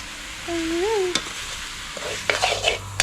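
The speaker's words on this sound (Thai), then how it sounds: "เราก็ทำการคั่วลงไปแล้วครับ" Pork stir-roasting with herbs in a pan, a steady sizzle with a utensil scraping and stirring in irregular strokes, close and moderately loud, plus a brief whistle-like tone near the start.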